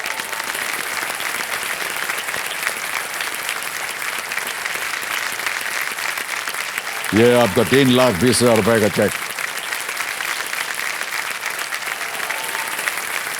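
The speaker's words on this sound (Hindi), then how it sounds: "तालियां बजती रहें इनके लिए" A studio audience on the quiz show Kaun Banega Crorepati keeps up steady applause for a contestant who won a cheque. The host speaks briefly partway through while the clapping continues underneath.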